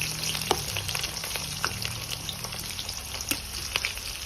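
Chopped onions and two chillies fry in a pan with cinnamon, cardamom and cloves for an Assamese duck curry, giving a steady close sizzle broken by light stirring scrapes, with no talking.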